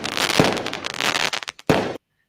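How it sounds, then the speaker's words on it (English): Fireworks crackle and pop in a dense, bright burst lasting over a second, then a brief gap and a second sharp crackling burst before cutting to silence. "That's your fireworks, buddy."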